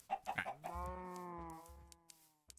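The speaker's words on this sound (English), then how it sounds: "Come on, chickens." Chickens cluck in a video game: a quick run of short clucks leads into a longer drawn-out squawk, followed by a few soft trailing sounds, close and fairly quiet with no speech.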